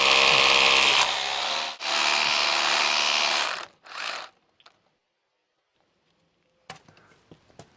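Loud bursts of a power drill grinding through a brick wall, three runs of decreasing length, followed by quiet and a few faint clicks and knocks.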